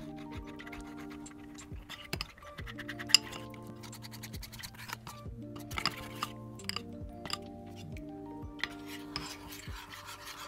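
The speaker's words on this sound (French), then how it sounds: "Et on va bien mélanger le tout" Granola ingredients are mixed in a bowl with soft, quiet scratching and light clinks of a utensil, heard under faint background music.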